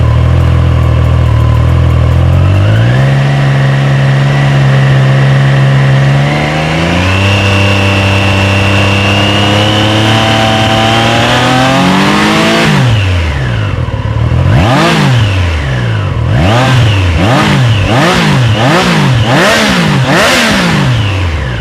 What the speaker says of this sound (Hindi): अभी आपको मैं एग्जॉस्ट साउंड इसकी सुनाता हूँ।